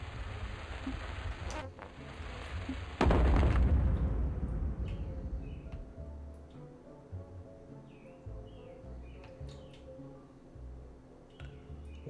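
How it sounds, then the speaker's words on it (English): A sudden loud explosion bursts out in the gentle video game Yono and the Celestial Elephants, then rumbles away into a quieter ambience of chirping birds. "This is supposed to be a nice and relaxing game, and all of a sudden it's explosions!"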